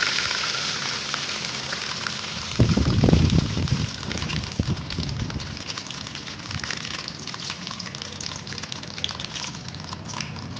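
A mixture is poured slowly into a hot pan and foams up. A sudden crackling, bubbling surge comes a few seconds in, then settles into a quieter fizz.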